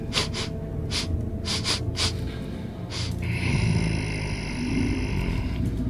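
Creepy deep breathing from a tabletop role-playing game soundscape, seeming to come from a dark corridor ahead: heavy, rasping gasps and snorts repeat several times, then a low, growling breath continues under a sustained ringing tone.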